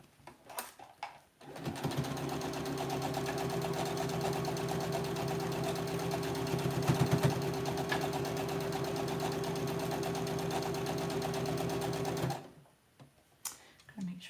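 A sewing machine stitches a quilt in one long continuous run, a steady whirring buzz close by that starts abruptly, holds for about ten seconds and stops, with faint clicks before and after.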